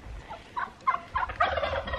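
Turkeys in a backyard turkey yard gobble in a quick series of rapid, warbling bursts, fairly close and clear over a faint low outdoor rumble, with no talking.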